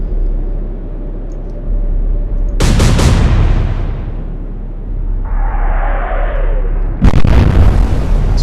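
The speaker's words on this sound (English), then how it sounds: "We are going to swing and concentrate our fire on the first German destroyer here." Heavy naval guns fire in the World War II naval strategy game Atlantic Fleet as shells strike a German destroyer: two loud booming blasts a few seconds apart, each rolling into a long rumbling decay over a low steady engine hum.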